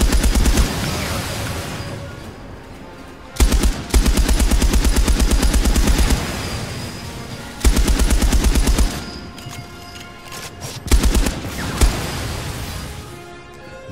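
A stationary .50 caliber machine gun turret in Warhawk fires in long, loud, rapid bursts with brief pauses between them. Booming impacts and game noise sound around the bursts.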